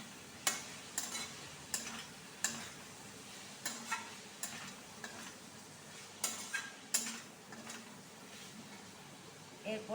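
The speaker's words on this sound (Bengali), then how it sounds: "এর মধ্যে একটু চিংড়ি দিয়ে নিলাম," Chicken stir-fried in a pan with fried prawns, pepper and salt: a spatula scrapes and clinks against the pan in repeated strokes over a quiet sizzle, with some soft talking.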